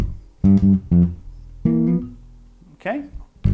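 A bass line played on G with small chords added on top, a few plucked harmonic notes and short chord stabs in a loose rhythm, fairly close and clear, with no talking over it.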